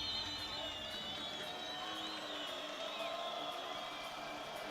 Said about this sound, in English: you can hear the crowd doing all the talking for me